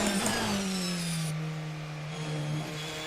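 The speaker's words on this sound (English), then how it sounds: "It's not the nicest sounding engine in the world" The Protech P91 Hybrid Evo prototype race car in Assetto Corsa revs hard, its engine note rising then settling into a steady mid-pitched drone with a strained, buzzy edge.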